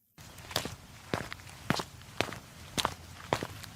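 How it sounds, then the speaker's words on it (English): Footsteps in an audio drama, several steady paced steps, fairly close and clear, stepping along in an even rhythm with nothing else over them. "I jumped when the silence was broken by a loud creak, followed by some footsteps."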